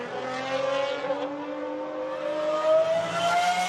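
Pagani GT1 race car engine on the Barcelona circuit during a club racing weekend, a steady sustained drone whose pitch slowly climbs as it builds revs, moderately loud and continuous with no voices.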